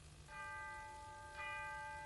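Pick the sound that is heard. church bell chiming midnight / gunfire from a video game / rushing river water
church bell chiming midnight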